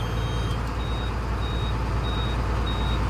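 A truck's warning beeper sounds nonstop because of a wiring fault, giving a rapid, steady train of high beeps over a loud, continuous low rumble.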